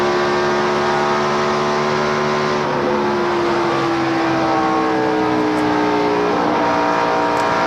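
NASCAR stock cars racing at the 2002 UAW GM Quality 500, a loud sustained engine roar with droning, shifting pitch from several cars circling the track.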